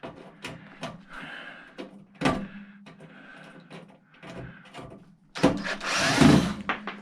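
A power screwdriver backs screws out of a charger during a teardown, with short whirring bursts separated by clicks and handling knocks, and a longer, louder run near the end.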